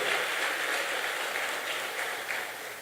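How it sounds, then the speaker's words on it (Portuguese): Church congregation applauding during a worship service, a steady, diffuse wash of many hands clapping at moderate distance, even and sustained before easing slightly toward the end. "Aplauda o nome dele, ele é digno."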